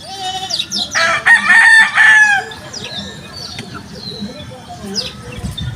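Fighting gamefowl at feeding time, a rooster crowing loudly followed by clucking and scattered bird calls, with background noise throughout.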